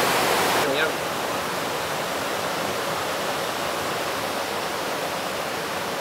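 The Mujer del Encanto waterfall in Baños de Agua Santa, Ecuador, pours continuously, a broad even roar of rushing water, with a brief voice at the very start.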